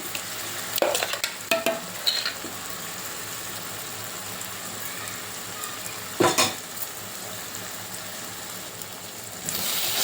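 Onions and green chili paste frying in a pan for a spicy egg gravy curry, a steady close sizzle with several sharp scraping stirs of a utensil against the pan.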